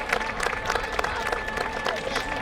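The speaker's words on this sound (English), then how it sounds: "Let's give them a round of applause." Crowd applause at the 2023 George Washington Birthday Parade in Alexandria, Virginia, dense scattered clapping from many spectators outdoors, steady and moderately loud, with voices mixed in.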